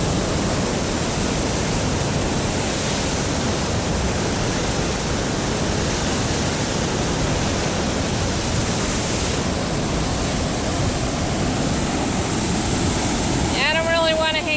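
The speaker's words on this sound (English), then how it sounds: "look at this water coming out here" Water gushes steadily out at the Republican River spillway near the Farnum Creek campground, a loud, unbroken roar filling the whole stretch, with a brief voice near the end.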